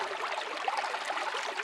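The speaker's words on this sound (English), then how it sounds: "in here we've got a brook." Brook sound effect from the DroneLab Pro iPad app: a steady, bright babbling trickle of water, continuous and moderately loud with no other sounds.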